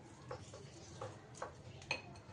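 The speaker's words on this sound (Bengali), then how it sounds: "এবার অরিগানো দেবো, ভালো করে মিশিয়ে" Chicken being mixed with egg white, ginger-garlic paste, salt and oregano in a bowl gives a few soft, close clinks and scrapes of a utensil against the dish, spaced irregularly over a low background hum.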